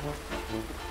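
Rain in GTA 5 hisses as a steady, dense wash of drops falling on surfaces, filling the whole brief moment without a break.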